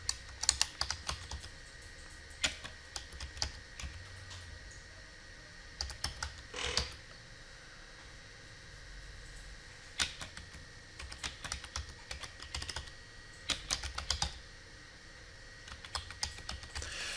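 Keys clatter on a computer keyboard in short, irregular bursts of quick, light clicks, with a sharper keystroke now and then and soft pauses between runs of typing, close and fairly quiet.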